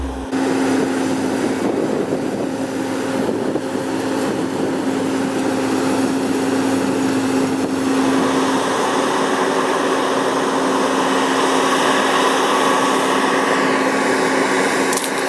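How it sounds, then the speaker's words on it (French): A combine harvester engine labours at full power while climbing a steep field slope during harvest, a loud, steady drone with a constant hum that stays close and unbroken throughout. "La machine est à son maximum. Mais elle ne monte pas rapidement."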